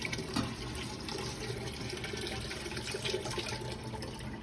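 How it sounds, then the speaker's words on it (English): Water pours into a Berkey water filter, a faint continuous splashing trickle with no breaks, quiet and close. "you only pour cold or room temperature water through the filters"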